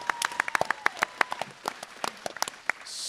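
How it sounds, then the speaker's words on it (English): At a gun convention panel, the audience gives a round of applause: scattered, uneven claps from a modest crowd, individually distinct and fairly close, thinning out toward the end. "I heard that half-ass round of applause"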